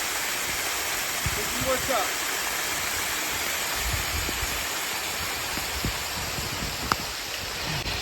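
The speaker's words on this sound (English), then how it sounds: "This is why we trail run, man. Look at this. 20-foot waterfall." A 20-foot waterfall beside a trail-running path gives a steady broadband rush of falling water, constant and fairly close, with someone talking briefly over it.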